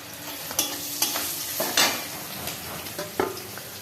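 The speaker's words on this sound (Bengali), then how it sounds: "এবার এই শাকটা তেলের মধ্যে ছেড়ে দিচ্ছি, দিয়ে একটু ভালো করে নেড়ে চেড়ে" Salt-mashed mustard greens stir-fried in hot oil, with a steady sizzle broken by repeated sharp scrapes and clanks of a spatula against the pan, close and fairly loud.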